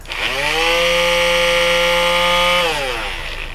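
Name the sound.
palm sander running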